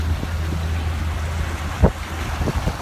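Wind buffets a boat a mile or two offshore near Emerald Isle, North Carolina: a steady low roar and hiss of air over the hull and microphone, with a few soft thumps and sloshes of water, and no talk.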